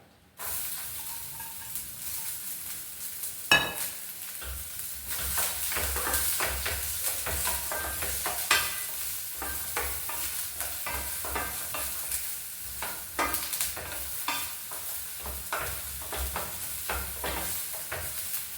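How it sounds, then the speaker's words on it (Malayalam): Chopped ginger, green chili and onion frying in coconut oil in a pan, a steady sizzle and hiss with scraping stir strokes running throughout, close and continuous. "ഇനി നമുക്ക് ഇതിലേക്ക് ഇഞ്ചി, പച്ചമുളക്, ഉള്ളി ഇത്രയും അരിഞ്ഞ് വെച്ചിട്ടുണ്ട്, ഇടാം"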